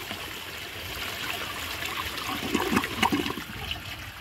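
An Eljer Windsor Lowboy toilet keeps running after a flush because its flapper won't close, water trickling and streaming steadily with a few louder gurgling surges, close and alone.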